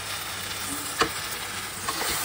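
A spoon stirs fruit chutney of tamarind, dates and mango with salt and turmeric in a pan, giving a soft continuous sizzle with a couple of light scraping clinks against the metal.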